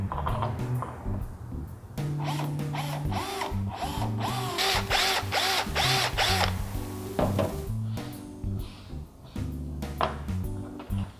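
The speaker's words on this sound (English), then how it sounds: "We'll be using a drill and a 1-inch drill bit." A power drill fitted with a 1-inch bit bores a hole while fitting HID xenon headlights to a 2014-or-later Chevy Impala, a close whining drone that starts after a brief pause and rises and falls in pitch as it cuts.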